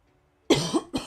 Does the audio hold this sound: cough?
yes